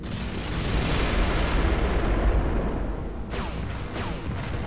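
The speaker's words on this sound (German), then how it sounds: "Schöne, dicke, fette Explosion hier." A big explosion in the Descent 3 video game rolls out as a loud, sustained broadband rumble, with a couple of brief sweeping effects near the end.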